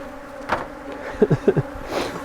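Honey bees buzz around an open hive while a beekeeper adds a super, the insect drone steady at close range with several short louder bursts as individual bees pass near.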